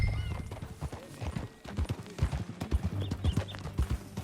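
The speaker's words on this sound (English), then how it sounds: "That a new horse?" Horse hooves clip-clopping in a steady trotting rhythm in the video game Red Dead Redemption 2, close and clear, with a brief whinny partway through and soft ambient game sounds beneath.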